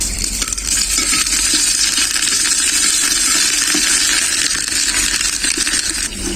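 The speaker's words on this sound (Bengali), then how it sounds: "আদাটা আমার খুব ভালো করে ভাজা হয়ে গেছে" Ginger paste frying in oil with bay leaves and dried chillies, a loud, steady, close sizzle running through the whole stretch, with faint stirring scrapes and no talk.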